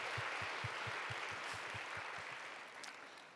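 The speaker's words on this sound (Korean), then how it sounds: "우리 선교사님 힘내시고 또 격려하는 우리 큰 박수를 보내드리도록 하겠습니다." Worshippers at a young adults' church service applaud a missionary serving in Indonesia, a faint, steady patter of many hands with a soft rhythmic thump underneath, gradually thinning out.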